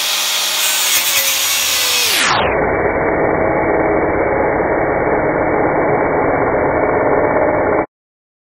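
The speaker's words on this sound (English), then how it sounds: "So I'm going to mark it all up and cut it out with a grinder." An angle grinder cuts a hole in steel plate for a kit car brake master cylinder conversion. The harsh grinding is loud and continuous, its pitch sags sharply under load, and it stays close and unbroken until it cuts off.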